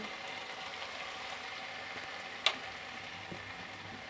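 A tablespoon of oil sizzles on chicken tikka being given a smoky flavor, a soft, steady hiss with one sharp click partway through.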